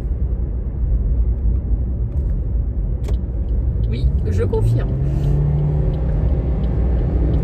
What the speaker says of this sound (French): je crois que je vous prends au moment où je vais devoir doubler un camion